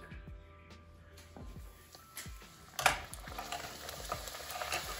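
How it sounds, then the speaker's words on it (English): Puri frying in hot ghee for halwa puri gives a steady close sizzle with scattered crackles, a louder burst of bubbling near the middle, and light clinks of a utensil stirring throughout. "Ghee is nice and hot. I will fry the puri."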